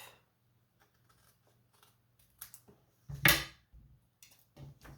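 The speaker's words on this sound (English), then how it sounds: "use our scissors and cut it off." A few crisp snips of scissors cutting through paper, close by, with a short louder cut in the middle and quiet pauses between.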